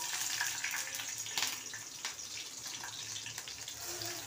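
Garlic and green chili frying in hot oil, a steady close hiss and crackle with a few sharper pops, no talking.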